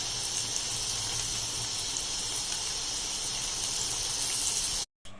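Fish pieces frying in hot oil for a hotel-style fish fry: a steady, close, bright sizzling hiss that runs unbroken, then cuts off briefly near the end.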